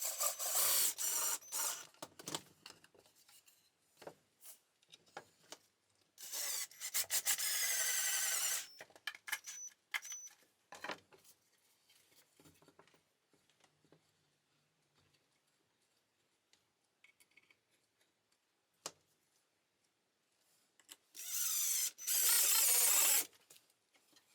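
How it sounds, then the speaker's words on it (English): A power driver screws parts of a wooden shop stool together, giving several short, loud bursts of whirring and ratcheting separated by quiet gaps filled with scattered clicks and taps of handling. "just lining them up and screwing them."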